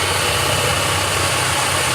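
A power drill whirs steadily and loudly at close range, boring dowel holes in wood for a joint, a continuous motor drone with faint grinding, no speech.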